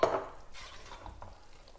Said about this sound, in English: Okay, just stir it.